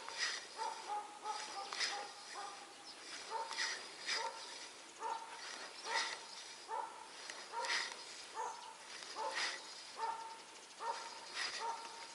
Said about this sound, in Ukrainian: хтось зачіпив собаку. Гавкає не перестає